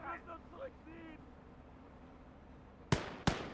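Soldiers fire guns in the WWII strategy game Call to Arms - Gates of Hell: after a brief stretch of talk and quiet, two sharp, loud shots crack out in quick succession.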